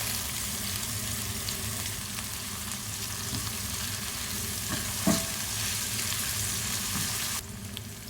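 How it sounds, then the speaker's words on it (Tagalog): Onions frying and caramelizing in a pan for meat biryani give a steady, close sizzle that holds throughout, with a brief clatter of stirring partway through. "hintayin po natin mag-caramelize yung onion bago natin idadagdag ang garlic and ginger paste."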